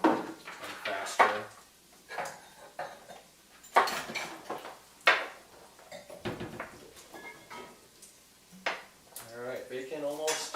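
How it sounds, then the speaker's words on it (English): Carrots are chopped with a knife in a home kitchen, giving sharp, irregular knocks on a board mixed with clinks of dishes and utensils, close by, while a voice talks at times. "chopping up some of these bigger carrots, just so they're all around the same size"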